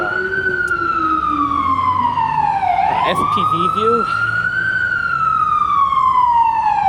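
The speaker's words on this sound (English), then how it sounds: "That's an ambulance" An ambulance siren passes along a New York City street, its loud wail sliding down, jumping back up and then drifting lower as it goes by. A short mechanical yelp cuts in midway over steady traffic noise, and a voice speaks briefly.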